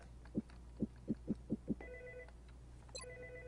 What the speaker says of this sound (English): The phone in here is ringing.